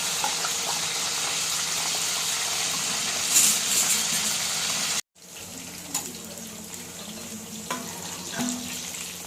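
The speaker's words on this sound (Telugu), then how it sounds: "ఇట్లా చీలికలాగా పెట్టుకొని ఆయిల్లో వేయించేసుకొని తీసేసుకోవాలి" Slit okra pieces frying in hot oil, giving a steady, close sizzle that cuts out briefly and then resumes, softer, with occasional light clinks.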